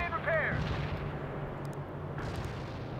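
Artillery grenade fire in the World in Conflict war game: a deep, booming rumble of distant shelling with a brief whistling streak early on and scattered later bursts.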